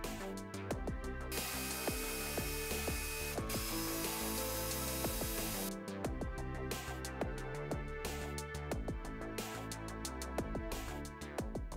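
A hand ratchet clicks rapidly in repeated bursts while bolts are removed from a Dodge Durango 5.9L V8 engine during water pump work, each burst a fast metallic pawl chatter with brief pauses between strokes, close and clear, with no talking.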